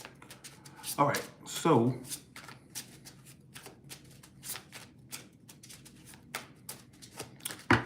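Tarot cards being shuffled by hand in crisp, repeated riffling bursts and soft slaps, close and fairly quiet, with a voice speaking briefly over the first shuffles.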